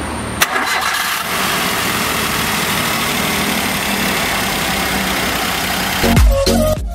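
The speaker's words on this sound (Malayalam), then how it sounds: "ഇനി നമുക്ക് എഞ്ചിന്റെ സൗണ്ട് ഒന്ന് ശ്രദ്ധിക്കാം." A 1000cc K-series petrol car engine runs at a steady idle close by, a continuous even drone with no talk, ending in a short burst of louder clatter near the end.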